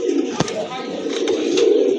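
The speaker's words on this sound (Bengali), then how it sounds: "আরেক জোড়া কবুতর রেসার কবুতর, ব্ল্যাক রেসার কবুতর" Pair of large black racer pigeons at a pigeon sale, a steady low cooing murmur running through the whole stretch with a couple of brief sharp clicks, close and fairly loud.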